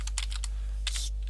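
Computer keyboard typing in two short bursts of clicky keystrokes, close and fairly quiet, with a steady low hum beneath and no talking.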